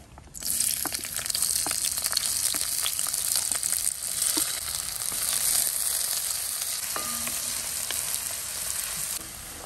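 Onion frying in coconut oil in a pan, a steady, dense sizzle that runs loud and continuous from start to finish, with no voices over it.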